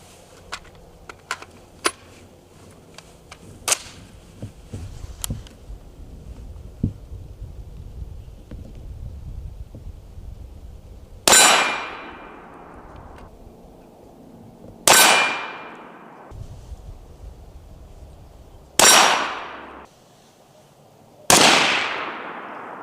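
Steyr AUG rifle fitted with a Dead Air Sandman K suppressor fires four sharp, loud suppressed shots spaced a few seconds apart, each with a brief decaying tail, after some lighter clicks and handling noise.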